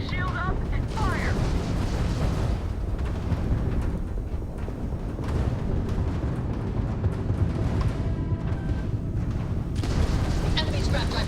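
Starship weapons open fire during a space battle in Starfield, a dense barrage of booming, rumbling blasts continuing steadily throughout with a broad roar beneath and voices chattering over the combat.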